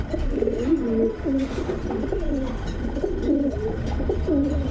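Several pigeons of fancy breeds such as teddy, Danish, racer and Budapest coo steadily over one another at a bird market, their low rolling calls overlapping continuously and close by.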